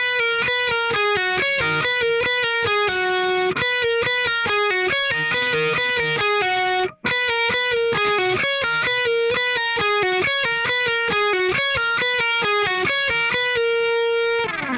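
Electric guitar plays the riff from a song, with fast repeated notes and pull-offs and a brief break midway. The tone is bright and slightly driven, loud and close throughout, with no voices.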